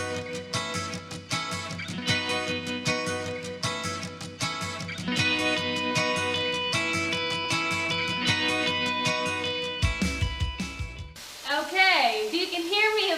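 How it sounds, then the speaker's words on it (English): Chicken pieces seasoned with salt and pepper sizzle steadily as they brown in a pan for butter chicken, with prominent background music over the frying and a voice speaking briefly at the end. "if you can hear me above all the sizzling"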